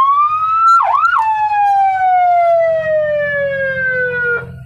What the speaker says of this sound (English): got my sirens here